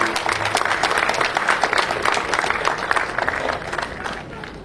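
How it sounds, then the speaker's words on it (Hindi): An indoor audience of doctors at a Heart Day celebration claps steadily in a sustained round of applause that fades slightly toward the end. "अगर आप बिलीव करते हो तालियां बजा के"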